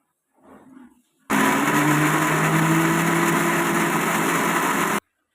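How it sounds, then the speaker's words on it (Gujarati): A mixer grinder whirs loudly and steadily for several seconds, crushing tomatoes, boiled kidney beans and coriander leaves, then cuts off abruptly; a faint murmur comes just before it starts. "આ બધાને આપણે મિક્સરમાં ક્રશ કરી દેવાનું છે"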